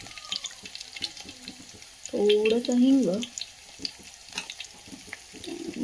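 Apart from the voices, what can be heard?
cumin, garlic and curry leaves sputtering in hot oil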